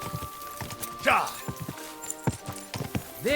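A horse's hooves clip-clopping and a whinny in the medieval game Kingdom Come: Deliverance 2, steady hoofbeats with a short neigh partway through, heard under someone talking.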